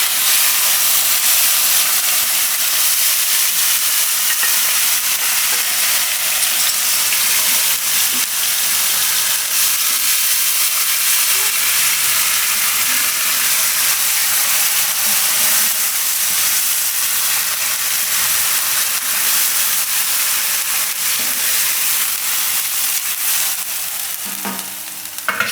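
Onion paste with cumin and asafoetida frying in hot oil, a dense, steady sizzle holding loud and even throughout, with faint stirring scrapes near the end.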